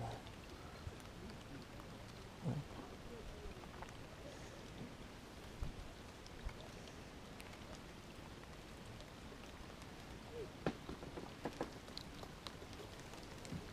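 Steady rainfall over a fishing spot, a continuous soft hiss with scattered drops and small taps on surfaces, faint and even throughout.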